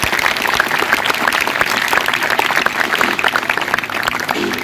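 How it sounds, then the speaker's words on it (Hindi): Loud, continuous applause from an audience at a school Teacher's Day celebration, dense clapping filling the whole stretch without pause. "इसके लिए जोरदार तालियां"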